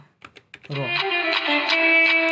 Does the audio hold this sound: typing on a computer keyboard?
yes